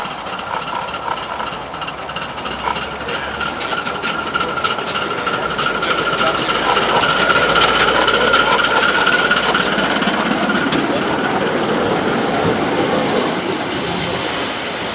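A 5-inch gauge miniature saddle tank steam locomotive runs on a gradient, a steady rumbling hiss and rattle that builds slightly in the middle and stays moderately close without a break.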